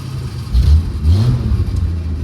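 A Slant Six 1965 Dodge Dart convertible revs loudly and close by for a burnout, with two strong surges of engine roar over a rough idle.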